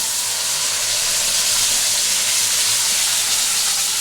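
Spice paste sizzling in hot oil for butter chicken, a steady loud hiss that holds unbroken throughout with no talking.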